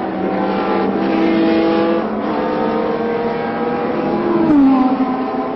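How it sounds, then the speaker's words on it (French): Formula 1 race cars at the 1975 Austrian Grand Prix, a loud sustained engine whine with pitch shifting as cars pass, ending in a rising, bending tone. "Les voitures passent"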